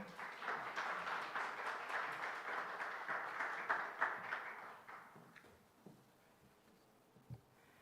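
An audience at a school admissions information session applauds to welcome the principal, a dense burst of clapping that holds for several seconds, then thins into a few scattered claps and fades.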